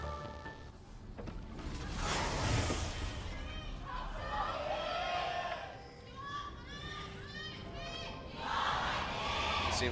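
A League of Legends esports crowd at an LCK match between ROX Tigers and SKT cheers and shouts in swelling waves, loud and fairly close, with voices talking over the noise.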